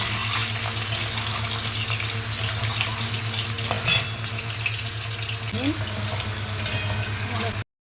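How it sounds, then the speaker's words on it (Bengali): Eggs frying lightly in hot oil, one after another, give a continuous close sizzle with a low steady hum beneath and a brief clatter partway through, ending abruptly. "তেল গরম হয়ে গেলে এর মধ্যে এক এক করে ডিম ছেড়ে দেবো। ডিমটাকে হালকা করে ভেজে নিতে হবে"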